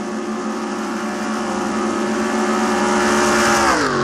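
Race car engines roar together in a NASCAR video game at Talladega, a loud sustained pack drone that shifts in pitch near the end as cars pass close.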